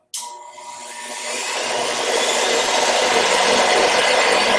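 Fresh-air supply machine for an automotive painting mask switching on with a sharp click, then a steady rushing, whirring drone that builds slightly and holds loud and close.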